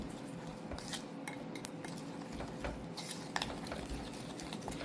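Butter and sugar, including powdered sugar, are beaten together in a bowl until fluffy for eggless custard cookies, giving faint, steady scraping and stirring with occasional light clinks of the utensil.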